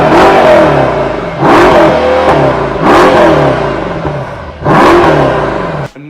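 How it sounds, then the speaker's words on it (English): A supercar engine with a fairly reserved exhaust revs hard, close and loud, in four rising surges separated by brief dips, with no talking. "this car does sound pretty mean"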